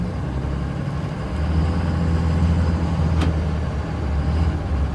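A 2005 Cummins diesel truck engine drives while warming up, giving a loud, steady low drone with a constant hum and an even, smooth tone.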